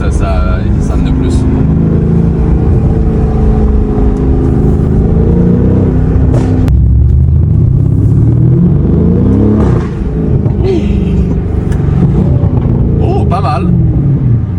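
A 2025 Lamborghini Urus SE engine rumbles and revs from inside the cabin while driving on the road, with a steady low drone rising in pitch under near-constant talk.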